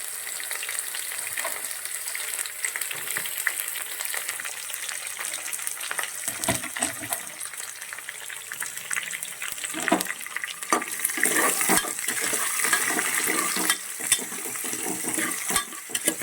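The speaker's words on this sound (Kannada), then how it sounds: "ಈಗ ಇದಕ್ಕೆ ಹೆಚ್ಚಿಟ್ಕೊಂಡಿರೋವಂಥ 2 ಮೀಡಿಯಮ್ ಸೈಜ್ ಈರುಳ್ಳಿನ ಆ್ಯಡ್ ಮಾಡ್ತಾಯಿದ್ದೀನಿ." Two medium-size chopped onions frying in ghee in a pan for masala ghee rice, a steady close sizzle with occasional stirring scrapes throughout.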